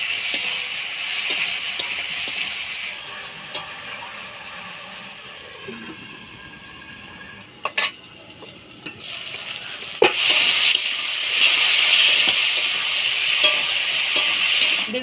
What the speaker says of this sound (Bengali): বেগুন ভাজা হয়ে আসছে